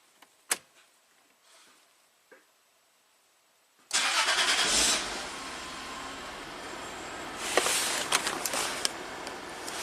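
Hot third-generation Toyota 4Runner engine cranks after a few faint clicks, then catches and settles into a steady, close idle with a brief louder surge partway through.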